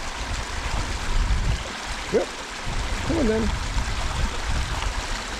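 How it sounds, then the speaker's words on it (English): A small waterfall stream on Dartmoor keeps up a steady, close rush of falling water throughout, with a person speaking briefly over it. "And a very small waterfall."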